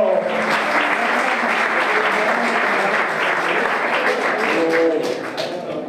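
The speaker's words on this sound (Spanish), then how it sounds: "Ese aplauso para mi amigo Domingo, mi secretario" An audience at a flamenco club applauds in a dense, steady burst of clapping that lasts several seconds and fades slightly at the end. Faint voices sit underneath.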